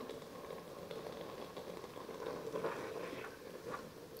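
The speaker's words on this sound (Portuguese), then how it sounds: "Já está começando a ferver." Homemade tangerine jam boiling in a pot on the stove, a steady close bubbling and soft popping that continues evenly throughout with no talking.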